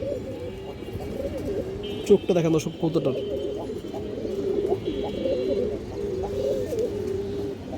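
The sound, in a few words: pigeons cooing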